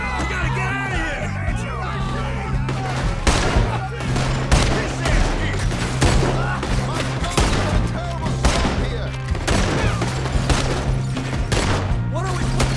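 Rapid gunfire bursts from a Red Dead Redemption 2 shootout crackle continuously at loud volume, with overlapping shots layered over shouting voices and a dense battle din.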